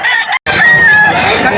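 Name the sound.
stag rooster crowing at pet market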